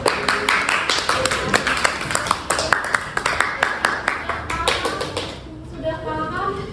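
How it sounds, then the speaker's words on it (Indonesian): A classroom group applauds, many hands clapping in a dense rapid patter that carries on steadily and then fades out, leaving a quieter room. "Ya, tepuk tangan dulu ya."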